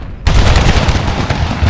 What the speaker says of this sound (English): They're literally firing point blank at each other. 2 volleys broke them.